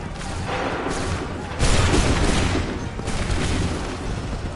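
Musket volley in Assassin's Creed 3, heard as loud booming bursts of massed gunfire in a few separate waves, the strongest one coming partway through.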